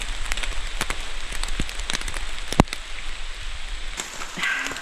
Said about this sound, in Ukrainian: І дощик пішов.